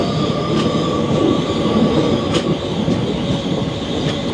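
Gondia Barauni Express passenger train running on Indian rails, heard from inside the carriage as a steady, loud rumble with repeated wheel clatter and a faint high metallic whine over the roar.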